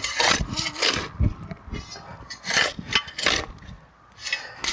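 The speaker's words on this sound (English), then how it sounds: "And I dig out a little more soil, an inch and a half to 2 inches" A shovel scrapes and digs soil for a dry-stack stone retaining wall, with rough, repeated gritty scraping strokes close by and a short pause near the end.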